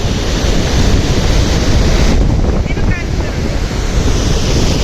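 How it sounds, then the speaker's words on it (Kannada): A loud, continuous roar of the Malaprabha River gushing over the Kolachi dam near Ramdurg, Belagavi, mixed with gusts of wind buffeting the microphone. "ಬೆಟ್ಟಗಳ ಮಧ್ಯೆ ನೋಡಿ ಮಲಪ್ರಭಾ ನದಿ ಹೇಗೆ ದುಮ್ಮಿಕ್ಕಿ ಹರಿತಾ ಇದೆ ಅಂತ"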